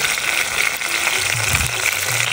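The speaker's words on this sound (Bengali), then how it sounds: "ভালো মতো নেড়ে চেড়ে নিচ্ছি।" Tomato and shredded cabbage stir-fry in a pan for fried rice, giving a loud, steady hiss of frying with a few low scraping and knocking sounds from stirring.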